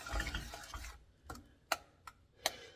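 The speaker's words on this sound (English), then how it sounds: "And you're going to stir that." Frosting for a 7UP cake is stirred in a bowl: a busy scraping swirl at first, then a few sparse, light clicking taps of a spoon against the container, close and fairly quiet.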